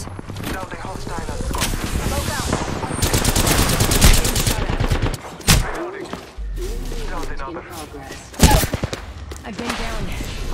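Rapid video game gunfire in long, dense automatic bursts, loud and close, with a few heavier single blasts mixed in and a voice speaking over the shooting.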